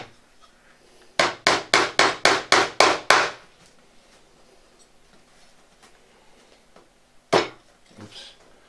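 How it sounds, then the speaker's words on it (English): A burst of eight quick, sharp upholsterer's hammer taps in steady rhythm, then a pause and one more single tap, close and crisp with quiet surroundings. "that is an upholsterer's hammer"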